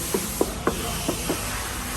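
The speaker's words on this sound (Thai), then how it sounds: "เคาะบอดี้ฟังเสียงนะคะ" Five sharp knocks on the body panels of a used 2016 Toyota Commuter van with a 3.0 diesel engine, a hollow rapping over a steady background hiss, loud and close, then fading into quiet.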